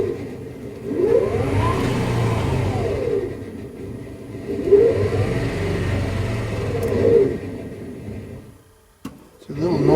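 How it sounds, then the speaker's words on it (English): Electric motor of a Jeep CJ7 EV conversion revving under throttle: a whirring drivetrain whine rising and falling in two long sweeps, loud and close, with vibration noise and a brief clunk near the end. "I'm giving it throttle. You see the RPMs."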